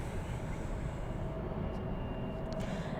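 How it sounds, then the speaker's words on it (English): Propeller plane at night near the northwest side of Dallas/Fort Worth airport, a steady broadband engine drone held at even loudness throughout, distant and continuous, with no talk over it. "And there that propeller plane goes"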